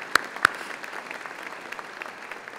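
Sparse, scattered clapping from a small audience at a State of the County event, a couple of sharp claps at first then light, thinning applause fading out.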